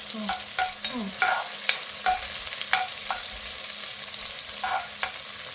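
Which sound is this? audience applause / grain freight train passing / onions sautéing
onions sautéing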